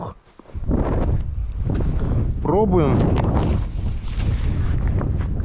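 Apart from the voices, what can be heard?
strong wind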